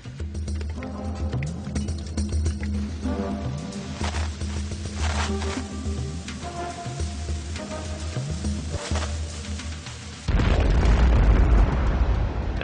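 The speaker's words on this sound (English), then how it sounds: "The resulting explosion signaled a furious 6-hour Ottoman assault." A deep boom from mines tunneled beneath a fort during an Ottoman siege, loud and rumbling, rising sharply near the end over a dense layer of dramatic background music.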